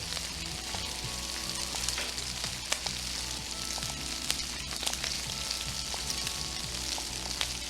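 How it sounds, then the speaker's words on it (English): Sausage links sizzle on a hot Blackstone griddle during breakfast sandwich cooking, a dense unbroken frying hiss close up, speckled with small pops and occasional sharper crackles. "Just turn these sausage links now."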